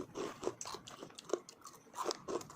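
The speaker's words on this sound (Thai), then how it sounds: "กรอบ ฟู แข็งนิดนิดแต่ฟันไม่แตก" Crispy snack being bitten and chewed close up, a quick series of dry crunches in an uneven rhythm, fairly quiet, with no speech.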